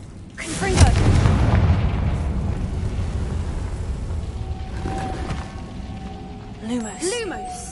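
A Confringo blasting spell from the Hogwarts Legacy video game goes off in a loud, booming explosion that rumbles on, with spell effects and a voice heard through the mix.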